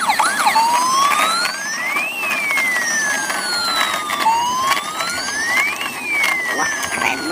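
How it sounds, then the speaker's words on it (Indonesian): A toy ambulance's electronic siren wails in repeating rising and falling sweeps, fairly loud and close, running the whole time. "Dan wah, ada mobil ambulan."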